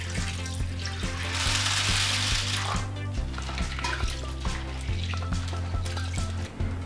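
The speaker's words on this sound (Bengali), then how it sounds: "প্রথমে ডাল ভালো করে ধুয়ে নেব।" Chana dal lentils swished and washed by hand in water in a kitchen bowl, continuous close sloshing and splashing over a steady low background hum.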